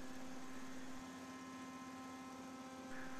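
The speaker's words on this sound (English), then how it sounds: "you can increase the revs to get the aggressive suction which is required" A roof insulation vacuum's engine runs at steady revs for removing old roof waste, giving a constant loud drone with a strong low hum and broadband rushing noise throughout, with no talk.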